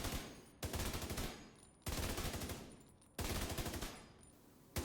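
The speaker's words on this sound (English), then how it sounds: "fire some short bursts while moving side to side" Three short bursts of automatic rifle fire ring out at a firing range in The Division 2, each a rapid rattle separated by brief pauses, close and quite loud.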